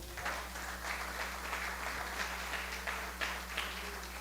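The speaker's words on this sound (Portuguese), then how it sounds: "Pode aplaudir o Senhor" A church congregation applauds during a worship service, a broad, moderately distant wash of clapping over a steady low hum from the room's sound system.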